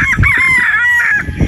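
A gamefowl rooster at a game farm in Batangas crows loudly and close by in one long, drawn-out call, followed by a brief low cluck.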